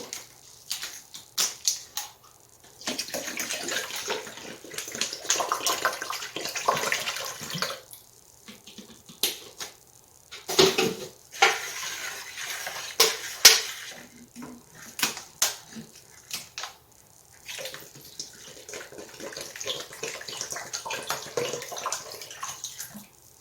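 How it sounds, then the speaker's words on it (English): Water splashes and pours in uneven bursts into a jar while making water kefir, close by, with brief pauses and clinks between pours. "And just add more water as I go."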